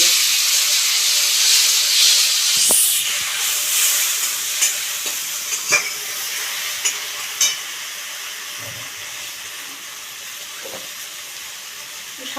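A lailontika fish curry with eggplant sizzles steadily in a frying pan while a spoon stirs it, with a continuous bright hiss and scattered scrapes and taps from the stirring.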